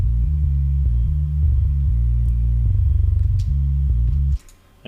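A metal bass guitar's isolated sub tone plays a low, heavy, rhythmic riff of repeated pulsing notes with short gaps, then stops abruptly, leaving near silence.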